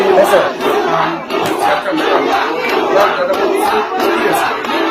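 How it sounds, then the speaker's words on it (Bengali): Crowd of students shouting and chanting slogans together outside an educational institution, a loud, continuous mass of voices with rhythmic surges. "এই বাইরে কি স্লোগান এসেছে?"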